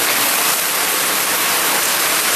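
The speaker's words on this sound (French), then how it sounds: "C'est le déluge ici." Heavy rain pours down on a racing sailboat during the Transat Jacques Vabre ocean race, a dense, steady roar of water with no let-up and no voices.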